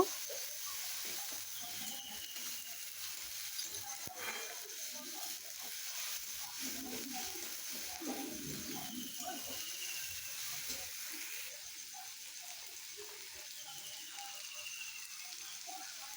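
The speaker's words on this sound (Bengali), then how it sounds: "এরপর হলুদ গুঁড়ো লঙ্কার গুঁড়ো দিয়ে নেড়ে নেব" Okra curry with mashed tomatoes, turmeric and chili powder is stirred in a pan, making a quiet, continuous low sizzle with faint scrapes and shuffles.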